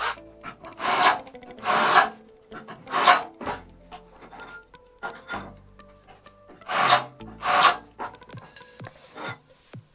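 A metal plate for a workshop stool is deburred by hand with repeated rasping, scraping strokes in uneven bursts, close and moderately loud, with no talking.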